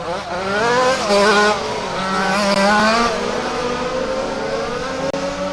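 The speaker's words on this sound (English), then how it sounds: "Matt getting a little fishtail motion going." A rally race car fishtails at a dirt speedway, its engine droning and revving loudly and steadily with rising and falling pitch, plus a faint thump near the end.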